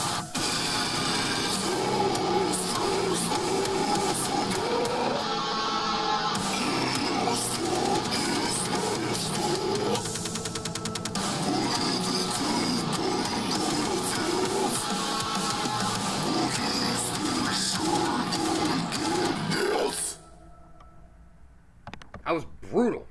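Brutal metal track plays loud and dense, with deep guttural growled vocals over pounding drums and heavy guitars, ending abruptly near the close with faint noises after.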